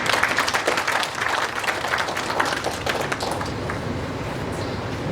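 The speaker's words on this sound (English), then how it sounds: "maybe we can applaud them." An audience at a Namibian Minister of Health's speech applauds, dense clapping from a crowd that stays strong for about three seconds and then thins out to scattered claps and room noise.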